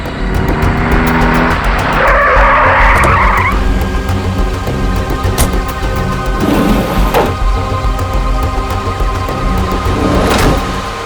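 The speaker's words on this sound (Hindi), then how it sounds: "टैक्सी।" A taxi brakes hard and skids to a stop with a loud, drawn-out tire squeal over a rumbling engine, followed by further engine noise and brief squeaks, close and without speech.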